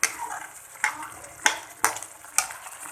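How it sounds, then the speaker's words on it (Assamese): Curry bubbles in a pan on the stove before fish is added. About five distinct soft pops burst at a slow, uneven rhythm over a faint sizzle, heard close up. "এতিয়া টুপটুপকৈ এইখিনি উতলিব লৈছে।"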